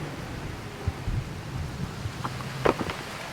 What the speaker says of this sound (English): With torrential rain pouring down, we are backtracking across a narrow,